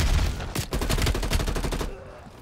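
Rapid automatic gunfire in Call of Duty: Black Ops Cold War, a heavy-recoil weapon fired in a fast burst of about a dozen loud, close shots before it cuts off.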